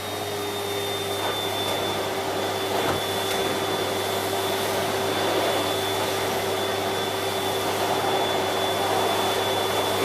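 A Siemens Z6.0 Power 2500W bagged cylinder vacuum cleaner running continuously at close range, a loud steady motor whine and airflow roar with a constant tonal hum, no talking.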